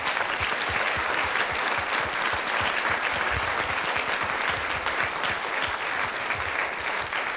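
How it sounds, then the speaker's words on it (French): An audience at a film screening and discussion in Briare applauds warmly, a loud, dense and sustained wave of clapping that holds steady throughout with no talk over it. "je voudrais simplement déjà qu'on les applaudisse et qu'on les remercie de tout notre cœur"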